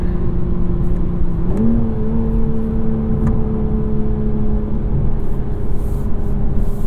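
Manual 2023 Toyota Supra engine pulling hard under acceleration, a steady loud droning tone that steps up in pitch once as revs climb, heard from inside the cabin over constant road rumble.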